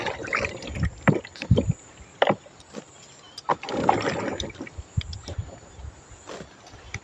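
Water flowing and splashing through a lemon orchard, heard as irregular sloshing and gurgling bursts rising and falling over several seconds, with no voices.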